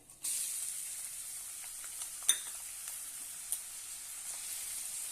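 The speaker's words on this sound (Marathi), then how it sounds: "जिरे घालूया एक कांदा बारीक कट केलेला आहे तो घालूया" Finely chopped onion hits hot oil already holding cumin and mustard seeds for a spicy potato curry, bursting into a sudden steady sizzle with a couple of sharp pops and clinks of a pan.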